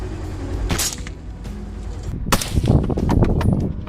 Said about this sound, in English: Gunfire erupted loud and fierce.